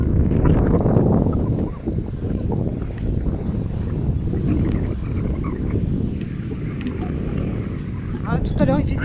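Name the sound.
wind blowing on the microphone outdoors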